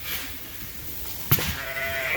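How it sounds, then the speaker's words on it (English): Fall lambs on a sheep farm give a faint, short bleat near the end, heard from a distance over quiet outdoor background noise after a single sharp knock. "So these are the fall lambs, 2021."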